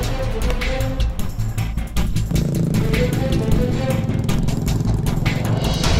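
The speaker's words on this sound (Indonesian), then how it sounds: "Transportasi yang digunakan pun hanya menggunakan motor untuk dibawa ke pengepul." A motorcycle taxi hauls sacks of tomatoes from the farm to a collector, its engine droning loud and close throughout, with some rattling and background noise.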